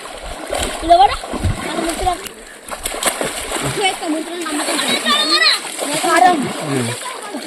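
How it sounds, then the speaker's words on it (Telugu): Village children swimming in a stream, splashing and slapping the water close by in uneven bursts while their excited voices and shouts carry over the sloshing. "ఇక్కడ ఈత కొట్టుకుంటుండు."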